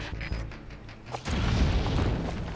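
Anti-air guns explode after being hit with a rocket launcher in Metal Gear Solid V: Ground Zeroes. After a quiet start, a deep, heavy boom hits and keeps rumbling to the end.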